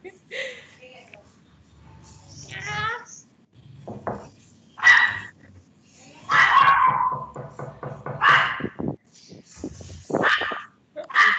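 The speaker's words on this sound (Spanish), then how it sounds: "Un perro y unos martillos ahí, cuidado." A dog barks and yips in short, uneven bursts close by, with a few sharp knocking clatters mixed in and quiet stretches between them.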